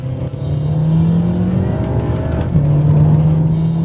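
A 2013 BMW M6 Coupe engine pulls hard through quick, clean paddle-shifted gear changes, a loud droning note that climbs, drops at a shift and climbs again, close with no talk.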